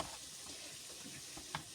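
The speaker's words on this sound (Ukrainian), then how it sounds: "Засмажечку я теж смажу з сальцем з цибулькою." Chopped onion frying in pork fat for dumplings gives a faint, steady sizzle with small crackles and a brief louder pop near the end.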